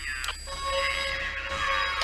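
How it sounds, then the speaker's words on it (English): An alarm goes off during an art gallery heist in the Payday 2 VR video game, a sustained, loud electronic tone that rings continuously after a brief blip at the start. "That's the alarm!"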